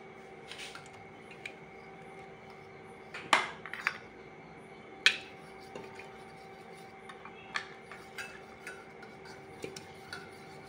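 Spoon stirring beef biryani in a metal pot, giving soft, sporadic clinks and scrapes against the pot's side over a quiet background.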